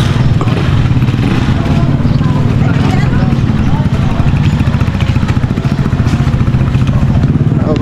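A motorcycle engine runs steadily throughout with a low rumbling drone and faint clatter, loud and close, with no pauses.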